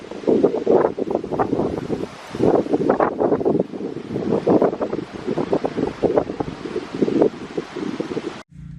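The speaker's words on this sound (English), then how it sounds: "It is so windy" Strong wind buffets the microphone in loud, gusting waves in a November backyard garden, with rustling in the background and no voices.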